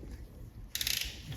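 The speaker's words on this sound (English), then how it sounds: "I'm going to tighten the foot peg bolts." Ratchet tightening the foot peg bolts on a BMW R1150GS motorcycle, a brief quiet burst of fast clicks lasting about a quarter second over low background noise in a workshop.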